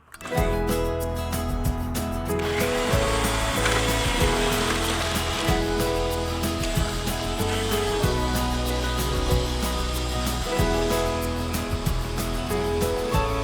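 A steady, loud electric tiller tilling garden soil runs continuously, churning and grinding with a rough mechanical drone and scattered clatter throughout.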